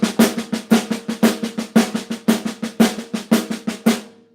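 A drum kit keeps a steady triplet subdivision at a moderate tempo, with evenly grouped strokes and regular accents, close and clear with no voices.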